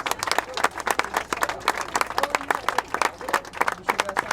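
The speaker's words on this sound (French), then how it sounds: "Applaudissements pour elle, s'il vous plaît." Lively applause and cheering greet Annie and Anne-Claire, the organic baker crew, on arrival at the Transat Jacques Vabre finish in Le Havre, with close, crisp individual claps in quick irregular bursts and a crowd murmuring beneath.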